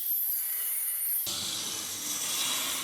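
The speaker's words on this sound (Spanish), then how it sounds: "ya vamos a usar un esmeril chiquito que se manipula muchísimo más fácil" A small angle grinder grinding a metal railing, giving a continuous harsh, hissing abrasive roar up close that turns fuller and rougher partway through and carries on without a break.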